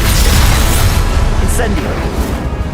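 Confringo, an explosive fire spell in the game Hogwarts Legacy, goes off amid dense, loud combat rumble, with a bright flash-like burst partway through and a voice heard over the chaotic blasts.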